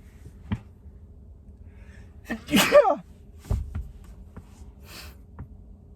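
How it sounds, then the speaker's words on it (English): A single sharp sneeze bursts out loudly in the middle, with a few soft clicks and faint breathy sounds around it in a quiet room. "Oh, I had to sneeze."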